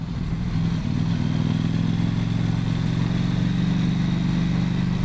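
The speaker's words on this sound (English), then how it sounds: "The bike's definitely throatier with the K&N." A motorcycle fitted with a K&N air filter runs close by, its engine giving a loud, steady, throaty rumble that holds without pause.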